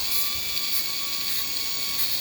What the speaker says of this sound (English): Just take it and deburr your edge.